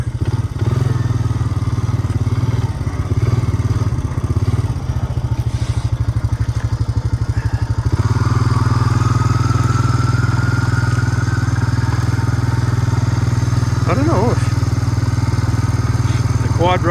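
A quad ATV engine drones loudly and steadily while riding through the bush on a mountain trail, its pitch rising partway through, with a few clattering knocks from rough ground.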